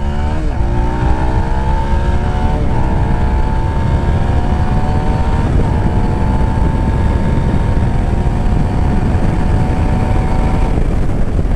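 Zontes 310 R1 motorcycle ridden in second gear, engine droning steadily and loud with rising harmonic sweeps as it pulls through the rev range, several shift-like breaks, heavy wind rumble underneath throughout.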